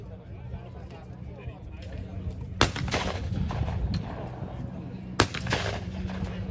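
Two sharp shotgun blasts ring out several seconds apart at a sporting clays championship quarter final, heard outdoors over a steady low rumble of background noise and chatter.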